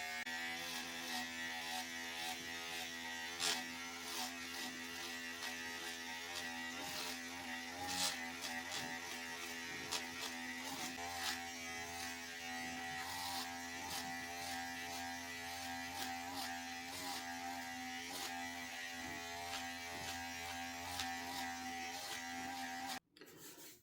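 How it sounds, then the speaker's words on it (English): A wireless hair clipper fitted with a number 8 guard cutting hair, a steady close buzz with small rasping bursts as it passes through the hair, running continuously until it stops abruptly at the end. "Number 8, wireless clipper, mirror."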